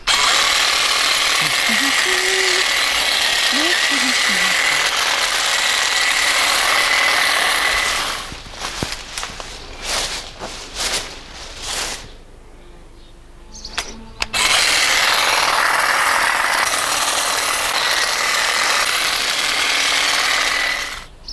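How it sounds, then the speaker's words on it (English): Cordless hedge trimmer running in an overgrown garden, a loud continuous buzzing that fills most of the span, drops out for several seconds into a series of short bursts and softer handling noises, then resumes at full strength. "I've got my nice cordless hedge trimmer and it's really very light and great to use."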